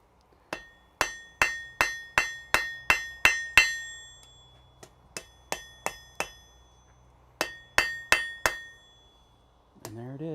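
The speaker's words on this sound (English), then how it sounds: "pull it out and give her some tappity tap taps" A hammer taps hot metal during a forge weld in a blacksmith's smithy, a series of sharp ringing strikes in quick bursts of about five to seven blows with short pauses between groups, close and clear.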